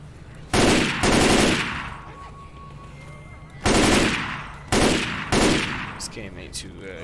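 Gunfire in the video game Left 4 Dead 2 comes as several loud, sustained automatic bursts of roughly half a second to a second each, separated by short pauses, with background game sounds between.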